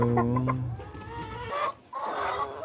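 Creole hens cluck and squawk at close range, a short run of loud clucking calls with rustling farmyard background noise.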